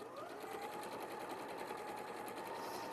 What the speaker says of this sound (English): So this is speed sewing at its ultimate.